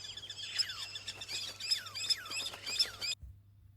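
Birds sing in rapid, repeated whistled phrases with sweeping rising and falling tones, close and insistent like an alarm, then stop abruptly over a low hum.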